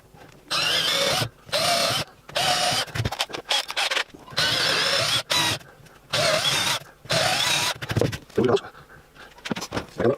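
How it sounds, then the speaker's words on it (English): A power drill boring a series of pilot holes for dowels in wood, loud bursts of whirring separated by short pauses, close by with no talking. "I'm going to drill a series of pilot holes where I've marked"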